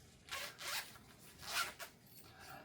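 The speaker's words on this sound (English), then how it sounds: "It is a zipper pouch" Short zipper pulls on an anime-themed fabric zipper pouch, a few quick rasping strokes, close and quiet, with no talking.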